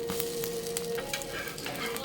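A bread omelette frying in a pan gives a continuous close sizzle, with light crackling pops scattered throughout.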